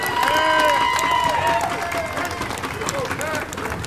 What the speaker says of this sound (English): Pat Smith of the Progressive Network deserves a big round of applause.